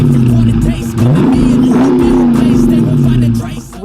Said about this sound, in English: Obviously, I'm gonna miss that Hemi sound, that rumble.